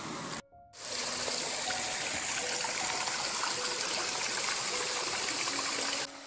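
Water rushes steadily in a stream along the Chattooga River trail, a loud close continuous wash after a brief dropout at the start, with no talk.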